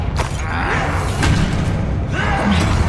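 A Confringo fire spell blasts during a Hogwarts Legacy duel, with repeated heavy booms and thuds, whooshing bursts and a shattering impact layered over constant, close combat noise.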